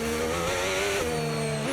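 An F1 car in the F1 25 racing game porpoises, bouncing against the track surface as its engine screams at high revs; a loud, steady whine with small pitch shifts, heard alone without talk.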